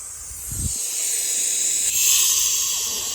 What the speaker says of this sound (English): we are in the middle of sandblasting it